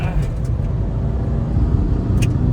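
Diesel Hyundai i20 and Suzuki Dzire cars launching side by side in a drag race, a steady loud low engine rumble and road noise continuing throughout with no clear gear changes.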